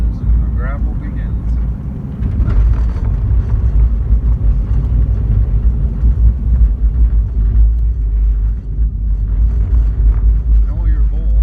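A car drives where a tar road ends and turns to gravel, its steady low rumble heard from inside the cabin throughout, with people talking over it.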